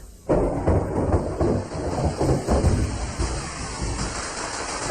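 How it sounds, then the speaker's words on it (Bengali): Sudden loud crash of thunder with rolling rumble and steady heavy rain, sustained throughout as a storm effect, no voices. "সঙ্গে সঙ্গে যেমনি বিদ্যুৎ তেমনি মেঘ গর্জন"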